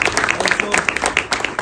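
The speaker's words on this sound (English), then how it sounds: "So let's give him a round of applause" An indoor audience at a building inauguration applauds, a dense burst of clapping from many hands that stays loud and steady through the short stretch.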